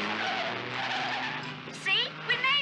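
A borrowed getaway car skids and screeches off as tires squeal in short bursts near the end, over a low engine rumble while voices talk throughout.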